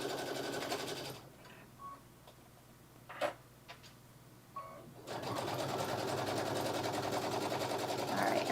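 A sewing machine stitches through a bulky leather and fur tote in two rapid running bursts, separated by a quiet pause with a few clicks and handling sounds.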